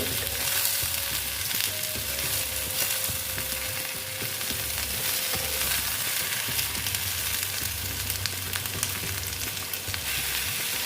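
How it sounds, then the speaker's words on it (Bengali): Ridge gourd and potato fry together in a pan, giving a steady, loud, continuous sizzle that holds evenly from start to finish with no one talking. "এবার ঝিঙাটাকে আমি ভেজে নিচ্ছি আলুর সঙ্গেই ভেজে নিচ্ছি"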